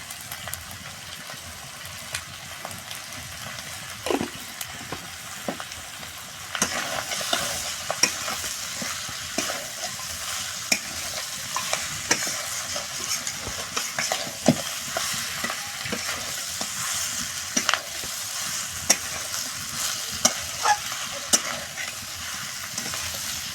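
Country chicken is stirred with salt in a pan, a steady hiss of frying under repeated scraping and clacking strokes of the spoon, growing louder after the first few seconds and continuing throughout without speech.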